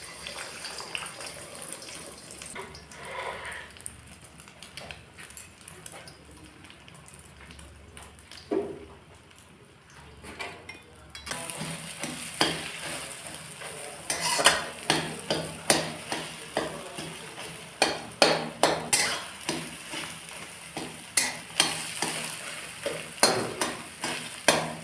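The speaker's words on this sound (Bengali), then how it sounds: "তেল গরম হয়ে গেছে, আমি এবার এতে ডিমটা ঢেলে দিই।" Egg poured into hot oil in a pan and stirred for garlic chowmein, quiet at first, then a steady sizzle with repeated sharp scraping and clacking strokes of the stirring utensil growing louder through the second half.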